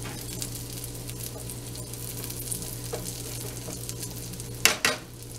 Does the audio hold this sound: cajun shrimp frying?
yes